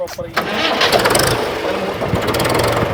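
A modified tractor engine cranks and catches, a short starter burst followed by a loud, close, rumbling idle that holds steady; a person speaks over the engine.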